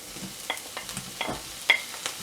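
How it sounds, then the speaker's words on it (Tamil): Onion and tomato sautéing in a pan for ridge gourd chutney, with a soft steady sizzle broken by several scraping stirs of a spoon, close and moderately quiet, no talking. "இப்போ ஆனியன் தக்காளி நல்லா வதங்கிடுச்சு"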